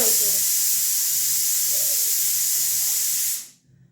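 A pressure cooker on a home kitchen stove lets out a loud, steady steam hiss for about three seconds, then cuts off abruptly, with faint voices beneath.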